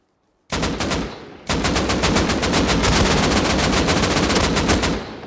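An AK rifle in a video game fires loud, close automatic bursts, one short volley followed by a long rapid stream of shots.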